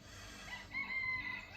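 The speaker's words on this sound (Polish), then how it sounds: "O, kogut pieje, wita mnie o 7 rano." A rooster crows at around seven in the morning on a clear day on Slovenia's Mangart mountain road. The crow is faint and distant, a single rising call over steady outdoor ambience.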